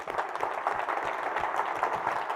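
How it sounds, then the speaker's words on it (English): Keynote audience at a tech conference breaking into steady, sustained applause, a dense wash of many hands clapping at even volume throughout, no voices on top. "big round of applause for Karla"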